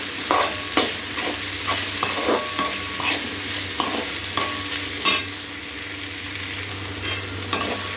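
Tomatoes and mutton sautéing together in a pan, a constant close sizzle broken by regular spatula strokes and scrapes, with no talking.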